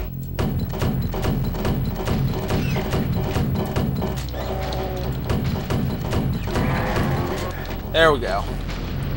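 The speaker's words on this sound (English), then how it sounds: "Fire some grenades." Grenades fired and exploding in the shooter game NeoDoom, with repeated booming thumps in a fast, steady rhythm under a game soundtrack, while a voice speaks briefly and a rising whooshing effect follows near the end.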